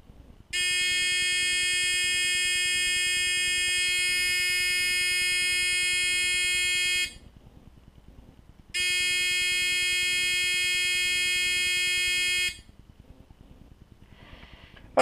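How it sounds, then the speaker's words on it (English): An electric buzzer in a simple school circuit sounds a loud, steady high-pitched tone for about six seconds, stops for under two seconds, then sounds again for about four seconds before switching off, with faint background hiss between. "we should hear the buzzer"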